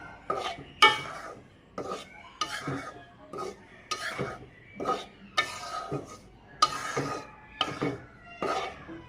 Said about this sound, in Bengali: চালের গুঁড়াগুলো আমি ভেজে নিচ্ছি